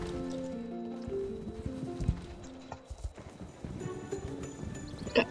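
A horse's hooves clip-clop at a walk during a Christmas outing, irregular close knocks that come and go through a busy background, with a brief whinny-like sound near the end.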